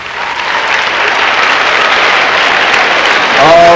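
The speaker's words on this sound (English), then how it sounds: "Y'all give it up for ReRe and Matt." Audience applause for performers ReRe and Matt at a live show, a dense, steady wash of clapping that carries on throughout and swells louder near the end.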